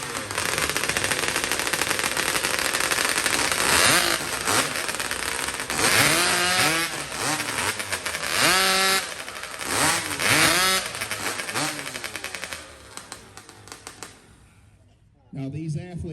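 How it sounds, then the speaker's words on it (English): Several racing motors, likely chainsaws, rev hard and sputter during a one-minute warm-up before a race. The loud, overlapping whines rise and fall repeatedly, then cut out near the end before one briefly restarts. "Let's warm these motors up."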